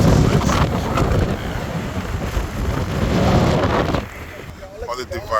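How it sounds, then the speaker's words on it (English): Strong wind buffets the microphone on a ferry crossing to Martha's Vineyard, a loud continuous roar that drops off briefly near the end. "It's pretty windy."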